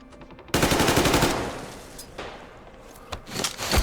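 Bursts of automatic gunfire from a shootout in the video game Metro Exodus, Sam's Story: a loud, dense volley that tails off into echoing decay, then sharper shots and another rising burst near the end.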